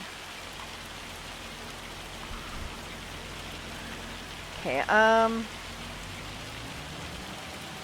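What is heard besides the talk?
rain falling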